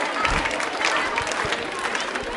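Audience clapping at a women's club quiz show held at a university, a steady dense patter filling the whole stretch at moderate loudness, with a voice talking over it.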